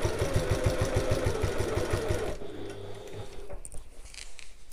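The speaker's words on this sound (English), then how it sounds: "then just sew on the base side" A domestic sewing machine stitches the base side of a large fabric bag in a fast, steady mechanical rattle, stops after about two seconds, then hums briefly before a few faint handling clicks.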